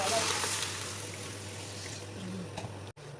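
Water poured into a cooking pot in a home kitchen in Romania, a steady low trickle and slosh, quiet and close, under a faint background hum.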